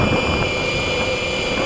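An 80mm 12-blade electric ducted fan holds steady at one throttle setting, giving a loud, even, high-pitched jet-like whine with a constant hum beneath it.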